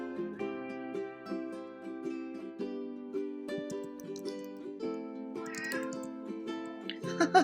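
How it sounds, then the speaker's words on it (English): A hungry cat meows repeatedly against a steady musical background, the cries fairly faint and intermittent, rising a little louder near the end. "I have a cat that's very hungry, if you keep hearing her."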